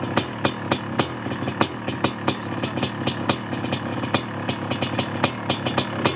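A motorcycle engine idles close by, a steady low rumble broken by irregular sharp clattering pops, with no one talking.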